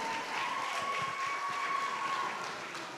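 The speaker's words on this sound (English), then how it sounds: "let's give them a big round of applause" An audience applauds dancers at a Janmashtami dance show with a steady, moderate wash of clapping from a crowd that stays even for three seconds.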